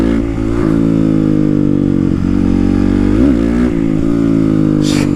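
A Honda CRF motorcycle accelerates hard in first gear, its engine roaring loud and close with a rising whine and brief pitch dips, a dense continuous drone without any voices.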